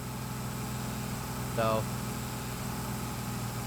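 Tractor engine idling steadily in Farming Simulator 25, a low continuous hum with a brief spoken word partway through.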